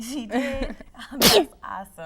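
One sharp sneeze bursts out mid-conversation, between a child's and an adult's chatter, loud and brief amid the talk.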